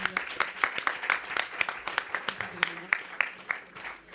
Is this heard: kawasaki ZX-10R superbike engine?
no